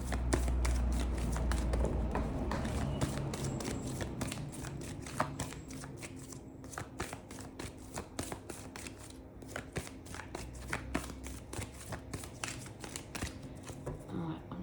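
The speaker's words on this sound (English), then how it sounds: "Going to split the deck and then grab the one that flew on the floor" A deck of tarot cards is split and shuffled up close, giving a dense run of rapid riffling and flicking snaps that thins to sparser, sharper card taps toward the end.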